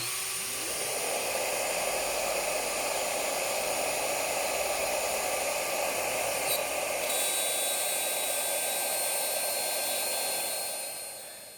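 A Shaper Origin handheld CNC router cuts a scrap of half-inch MDF with a continuous high, hissing motor whine and broadband cutting noise that holds steady for about ten seconds before fading off.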